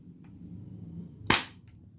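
A single sharp, loud crack of a spring airsoft rifle firing, standing out against a low background hum, with a faint click just before.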